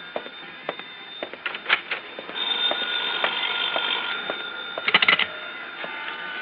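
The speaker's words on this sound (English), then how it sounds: "That's my phone." Old-time radio drama telephone bell ringing in bursts, a bright metallic trill repeating over several seconds, with a few clicks and knocks between rings and no speech.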